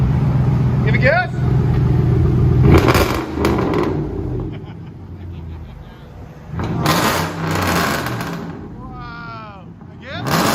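Dodge Dakota SLT 4.7L V8 with an aftermarket exhaust, Flowmaster Super 10 or straight pipe, revved in several loud bursts with crackling pops, interrupted by people talking and exclaiming nearby.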